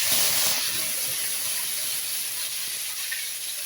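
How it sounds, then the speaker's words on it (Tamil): Fenugreek seeds and curry leaves sizzle steadily in hot oil for a Tamil fish kulambu, a close, even broadband hiss that stays constant throughout with no talk. "ஃபர்ஸ்ட் எண்ணெய் காஞ்சதும் கொஞ்சமா வெந்தயம் சேர்த்துக்கலாம். வெந்தயம் பொரிஞ்சதும் கருவேப்பிலை சேர்த்துக்கலாம்."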